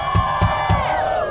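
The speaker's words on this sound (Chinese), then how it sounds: "来，觉得主持人很正的尖叫声。" An audience screams and cheers at a concert by a band at a Honda motorcycle event, a sustained high-pitched crowd roar with a few rhythmic low thumps beneath it.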